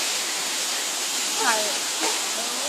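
Steady rushing water of Khun Korn waterfall in Chiang Rai roars as a broad, constant wash, with birds chirping briefly over the noise.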